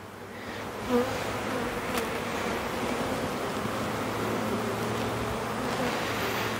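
Honeybees buzzing steadily at an opened hive during a spring inspection, a close, continuous droning hum with no talk.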